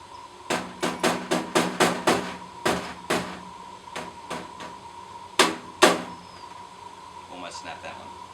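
Plastic rivets tapped in with a hammer while assembling an AirScape 4.4e whole house fan: a quick run of about ten sharp, evenly spaced knocks, then a few scattered louder hits, close and clear.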